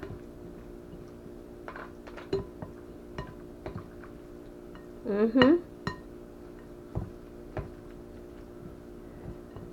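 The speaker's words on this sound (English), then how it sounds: "I'm stirring it basically until all the food is well coated" Pasta salad with raisins being tossed and stirred in a bowl, giving soft intermittent clinks and scrapes of utensil against dish, with a brief louder burst of mixing midway, close and fairly quiet.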